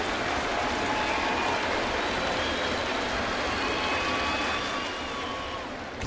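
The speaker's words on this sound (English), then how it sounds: "Crowd looking for a strikeout from Sabathia." Crowd at a 2011 baseball game between the Toronto Blue Jays and the New York Yankees, hoping for a Sabathia strikeout: a dense, sustained roar of cheering from a large stadium audience that stays loud and fades slightly near the end.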